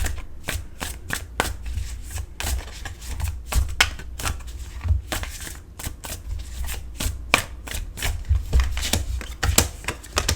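Large tarot cards being shuffled by hand, a long run of riffling snaps and soft slaps in irregular bursts, close and fairly loud with a low background hum.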